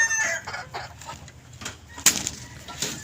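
Golden Boy chickens cluck and crow in a Filipino chicken yard, with scattered clucks and one sharp, loud crowing burst midway, fairly close and without talk.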